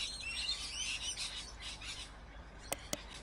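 Birds chirping in the pet shop game Exotica Pet Shop Simulator, a faint run of quick, high tweets fading out, followed by two sharp clicks near the end.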